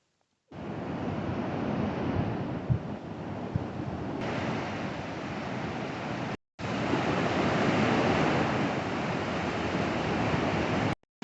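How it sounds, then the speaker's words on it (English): Ocean waves of an incoming tide washing onto a beach, a steady broad roar of surf with wind rumble on the microphone, loud and continuous, cut off by a brief silent gap. "the tide is coming in, so I have to make this kind of quick"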